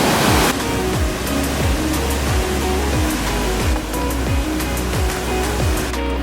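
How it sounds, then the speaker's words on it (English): A waterfall in Lombok, Indonesia roars as a loud, steady wash of rushing water, constant and close, with no voices over it. "We saw the second waterfall."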